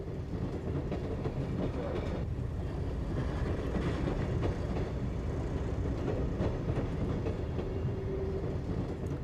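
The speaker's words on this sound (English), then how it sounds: "the cheapest way to provide a service is to use a diesel multiple unit, even though the route is electrified" A diesel multiple unit train runs on the electrified Dijon–Metz line in France, a steady loud rumble with rhythmic clatter from the wheels rolling along the track throughout.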